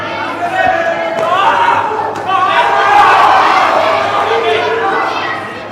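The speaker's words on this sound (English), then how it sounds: "What excitement from the crowd we are getting." Spectators at a youth karate kata and kumite final in Windhoek roar and cheer steadily throughout, a dense, loud crowd swell with a sharp thud or two cutting through and voices mixed in.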